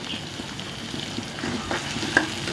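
Small shallots and garlic hit hot oil in a pan and sauté with a steady, moderate sizzle, while a few soft clicks of stirring come through near the end.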